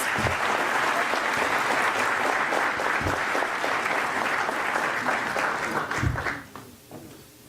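Loud applause from the audience at a heraldry society's award ceremony honouring a Grand Cross of Civic and Cultural Merit recipient, dense clapping that carries on strongly and then drops away abruptly near the end.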